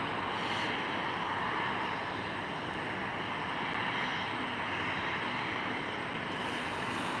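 A Boeing 737-900 airliner taxis at Minneapolis–Saint Paul airport in winter, its engines giving a steady, distant broadband roar that holds evenly throughout with no talk.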